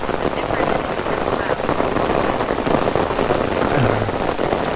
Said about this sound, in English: the rain just turned up in intensity again